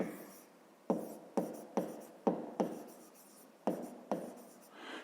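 Someone writes out a fifth-grade maths exercise, with a series of sharp, close strokes and taps in an irregular rhythm.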